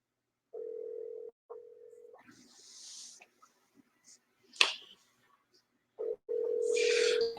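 A telephone call in progress, with two short steady tones followed by faint clicks and rustling, a sharp snap, and then a longer ringing tone near the end, all clear and close.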